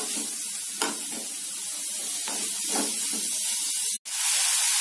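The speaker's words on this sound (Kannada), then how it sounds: "ಈರುಳ್ಳಿ 1 ನಿಮಿಷದಷ್ಟು ಫ್ರೈ ಆಗಿದೆ" Sliced onions fry in a pan for a Moringa-leaf paratha and egg curry, giving a steady close hiss and crackle with faint stirring scrapes, until it cuts off sharply near the end and resumes.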